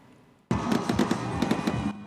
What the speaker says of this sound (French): Le ciel de San Pedro illuminé par des feux d'artifice